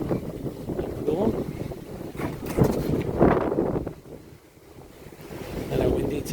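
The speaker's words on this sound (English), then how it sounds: "Kind of windy today." Gusty wind blowing outdoors along a Waikiki-area restaurant strip by the water, loud and steady with rumbling swells into the mic, while voices murmur faintly underneath.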